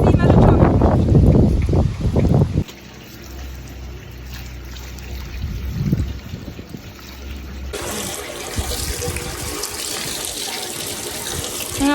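Running tap water splashing onto a horse's leg to cool it, a steady close rush that follows a loud opening burst, with someone talking briefly over it.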